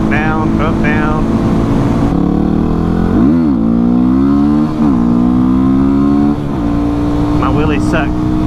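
A Yamaha WR250R motorcycle engine revving hard as the rider lifts a wheelie, loud and close with rising and falling pitch swings over steady wind rush, while someone talks over it.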